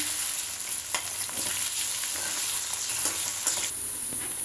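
Potatoes frying in a pan for raw mango rice give off a dense, continuous sizzle close up, punctuated by occasional spatula scrapes and stirring clicks.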